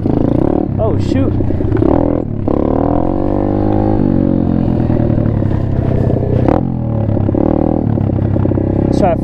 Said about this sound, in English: Let's try first gear pop-up wheelie. Dump the clutch.